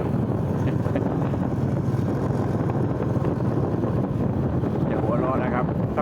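Strong wind buffets the microphone with a constant loud roar and low rumble outdoors in Sepon, Savannakhet, Laos, steady throughout with no clear voices.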